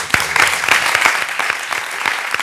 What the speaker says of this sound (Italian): fate un applauso ai cani